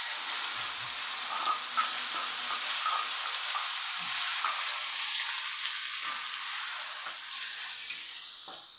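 Garlic, shallots and bird's eye chilies frying in hot oil for sambal, a steady dense sizzle and hiss with light stirring and pan scrapes, close and continuous.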